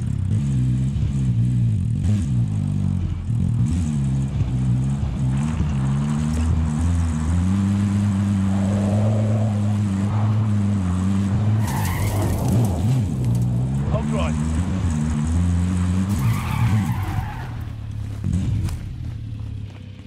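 A car in Call of Duty: Modern Warfare drives with a loud, steady engine drone that rises and falls through revs, broken by squealing tyre skids, while players talk over it.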